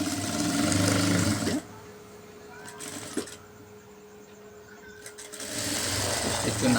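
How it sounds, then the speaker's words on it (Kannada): Sewing machine stitching an embroidered blouse, its steady mechanical whir running at the start, stopping for a quiet stretch with a few small clicks and handling sounds, then starting again near the end. "ನೋಡಿ ಎರಡರ ಮಧ್ಯದಲ್ಲಿ ಸ್ಟಿಚ್ ಹಾಕ್ಕೊತಾ ಇದ್ದೀನಿ."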